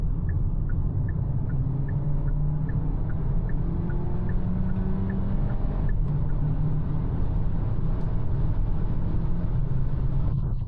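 A Kia K4 car driving on the road, heard as a steady low rumble of engine and road noise throughout, with a faint repeating ticking high above it.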